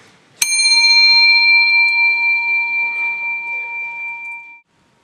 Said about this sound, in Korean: 자, 여기 종이 있어요.